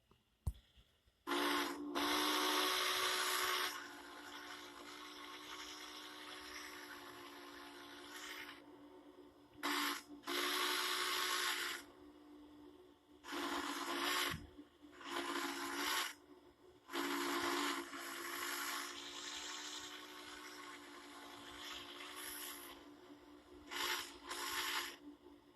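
A simulated locomotive steam whistle from a phone app sounds in long, loud blasts separated by short gaps, with several shorter toots near the end and no talking.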